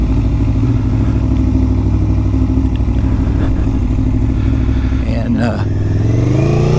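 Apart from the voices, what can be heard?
Aprilia motorcycle riding off in gear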